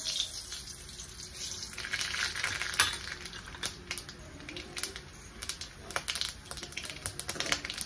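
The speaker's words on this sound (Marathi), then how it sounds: "तर जिरी मोहरी तडतडली की आपल्याला गॅस बंद करायचा आहे" Cumin and mustard seeds spluttering in hot oil for tempering, quick irregular crackles and pops over a soft background sizzle.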